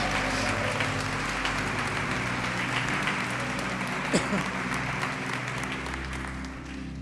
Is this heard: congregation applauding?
yes